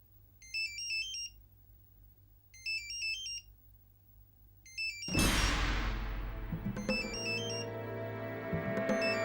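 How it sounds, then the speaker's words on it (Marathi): A mobile phone ringtone rings in a Marathi TV serial scene, with short repeated melodic bursts at a steady rhythm over quiet room tone. A loud crash of dramatic music then swells in and plays on under the ringing. "तो बघ तुझा फोन वाजतोय"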